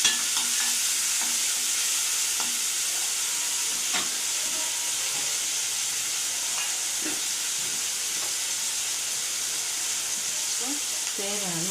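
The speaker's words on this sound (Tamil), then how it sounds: "தக்காளி வதங்கட்டும்." Ripe tomatoes sauté in a frying pan with a soft steady sizzle and hiss, while a spatula stirs and scrapes now and then.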